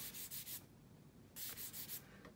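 Quiet, rhythmic strokes of 800-grit sandpaper rub across a plastic part of a Revell 1/48 F-15E model kit, in two short runs of back-and-forth scrubbing separated by a pause, with no voice.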